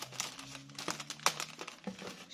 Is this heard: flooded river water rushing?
no